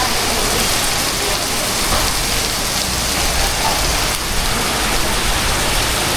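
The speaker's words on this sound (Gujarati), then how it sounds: "રાતે પણ વરસાદ આવ્યો" Heavy rain falls at night on a flat rooftop terrace, making a dense, unbroken hiss of drops that stays loud and even from start to finish.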